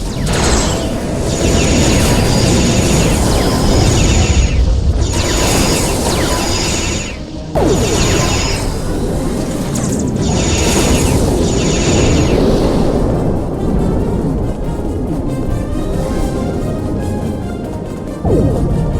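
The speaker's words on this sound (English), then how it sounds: "They're using anti-proton weapons." Anti-proton weapon fire and explosions in a Star Trek Online space battle against Iconian constructs, loud repeated bursts and booming blasts overlapping in a dense, continuous barrage with brief gaps.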